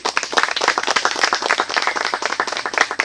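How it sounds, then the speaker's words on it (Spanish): A church congregation claps for the Lord, a brisk, dense patter of many hands, fairly close and even throughout with no talking. "Démosle un buen aplauso al Señor, hermano."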